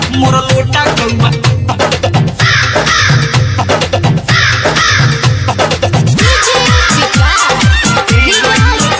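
A crow caws over and over, loud and close, harsh calls repeating in a steady rhythm throughout with a dense musical backing underneath.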